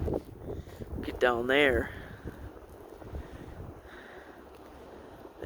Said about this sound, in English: It's just blowing snow up to 50 miles per hour.